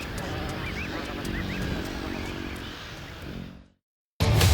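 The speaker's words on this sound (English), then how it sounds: "Bar-headed geese always nest by water for food, but also to escape the hardy Tibetan wolf." Bar-headed geese honk repeatedly near water in the Tibetan Himalayas, a flock calling over a dense natural background before it cuts to silence.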